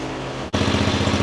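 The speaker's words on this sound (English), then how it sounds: "leave the engine running, flip this off, and let it suck as much fuel through this line, through the carburetor until it's all dry" A riding lawn mower engine runs loud and close with a steady, fast chugging putter, briefly dipping for an instant before carrying on at the same even rhythm.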